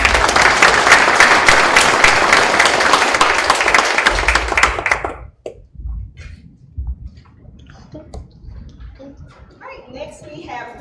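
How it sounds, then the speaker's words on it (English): An audience at a Southampton County Public Schools board meeting claps loudly for about five seconds, then the applause cuts off, leaving a quiet room with faint scattered talk. "we could give her a huge round of applause"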